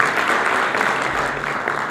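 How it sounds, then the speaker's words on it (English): A dense, continuous wash of clapping from a conference audience, steady and fairly loud throughout the short stretch. "let's give a very good applause for this wonderful 2 days"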